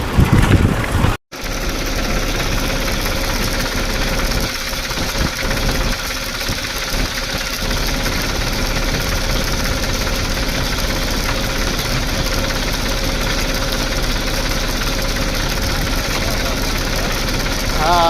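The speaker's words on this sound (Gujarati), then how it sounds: "આવી ગયું છે અશ્વિન કાકાનું ટ્રેક્ટર" A farm tractor belonging to Ashwin kaka idles on a field during chickpea sowing, its engine giving a loud, steady, slightly knocking rumble that continues unbroken after a brief dropout near the start.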